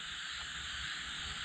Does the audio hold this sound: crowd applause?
no